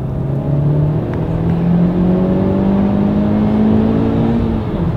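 A Honda Civic Type R FK8 fitted with a downpipe revs steadily upward, its engine tone climbing smoothly and loudly for several seconds with no talking.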